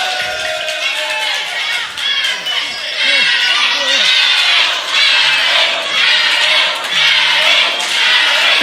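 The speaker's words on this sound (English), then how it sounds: "This crowd's deafening, Elliot!" A packed wrestling crowd at an ORW Clash in Clacton show roars loudly and continuously, a dense wall of cheering and shouting that swells and holds without a break.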